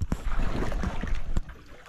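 Water sloshing and rushing around a boat on a river, with wind buffeting the microphone and a couple of sharp knocks against the hull over a steady, close wash.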